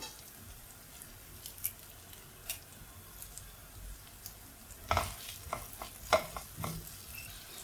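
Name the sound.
stirring ginger, garlic and curry leaves frying in a pan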